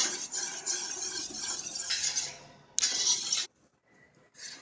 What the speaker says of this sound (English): want to whisk the juice into the roux to get a little thick